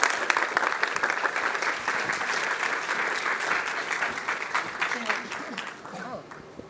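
Audience applause at a Karnival Cinta Malaysia ceremony in a church, welcoming YB Teresa Kok to the stage: steady, dense clapping from a crowd that holds for several seconds, then thins slightly toward the end, with faint voices underneath.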